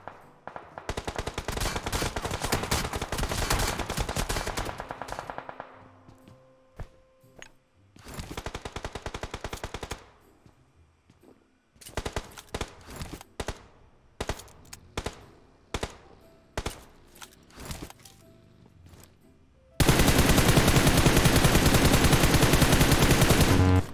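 Gunfire in PUBG Mobile: long automatic bursts and clusters of single shots, loud and close, broken by short gaps, ending in a sustained dense volley.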